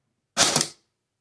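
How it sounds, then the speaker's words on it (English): A single sharp mechanical click as the trigger is pulled on a gun fitted with an RGB light-up hand guard, brief and close. "And if I pull the trigger,"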